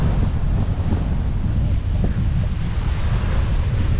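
Steady wind and surf on the beach at Cha-am, Phetchaburi, with the wind buffeting the microphone loudly and continuously and the waves rushing underneath, no voices.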